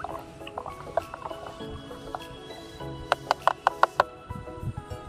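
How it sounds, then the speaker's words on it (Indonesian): Liquid pesticide mixture for avocado trees being stirred during a rainy-season orchard treatment, giving soft wet sloshes and drips that build to a quick run of sharper splashy clicks near the end, close by with no talk. "Ini kita aduk lagi ya saudaraku, biar benar-benar tercampur rata."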